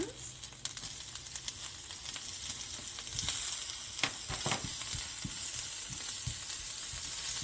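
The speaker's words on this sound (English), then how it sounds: "Saute the onion" Onions sauté in hot oil in a pan, a steady soft sizzle broken by occasional scrapes and clicks of a stirring utensil, close and fairly quiet, with no one speaking.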